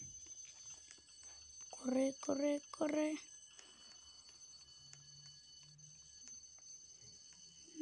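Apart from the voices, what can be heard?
nuclear bomb alarm in a video game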